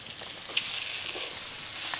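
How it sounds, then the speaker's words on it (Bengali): Boiled potato being stirred into a fried spice mixture, a steady close sizzle with faint, brief scraping strokes of the spoon, no voices. "মশলার সাথে এবার খুব ভালোভাবে আলুটাকে মিশিয়ে দেব।"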